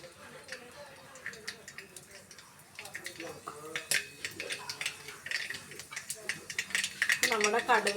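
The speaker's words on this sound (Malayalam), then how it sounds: "നമ്മുടെ കടുക് ചടവട പൊട്ടുന്നുണ്ട്." About half a spoon of mustard seeds crackle and pop in hot oil in a pan while jackfruit thoran is being cooked. Sharp, scattered snaps build into quicker bursts, with utensils clinking and a voice speaking softly in the background.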